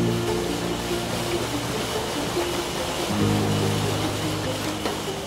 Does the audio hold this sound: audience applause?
no